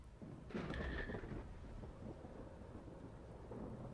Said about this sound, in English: There is a crash of thunder heard in the sky that awakens the party.